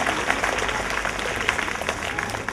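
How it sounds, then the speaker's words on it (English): Loud, dense applause from a seated audience giving a round of applause during an inspirational leadership talk, a steady roar of many hands with occasional sharper claps throughout. "Nice applause."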